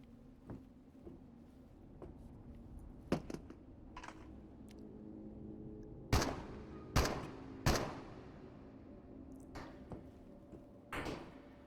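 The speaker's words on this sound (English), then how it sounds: "Somebody shooting at me somewhere." Enemy gunfire aimed at the player in the video game Into the Radius: scattered single sharp cracks at irregular intervals, a few loud and close and others fainter, over a low steady ambient hum.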